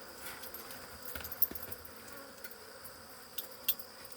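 Honey bees buzz faintly around a hive, a thin continuous drone with a few brief louder passes as individual bees fly near, no talking.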